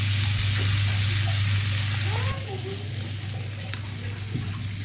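Vegetables and garlic are stirred in a frying pan with a close sizzle over a steady mechanical hum that cuts off partway, leaving softer frying and a few light scrapes.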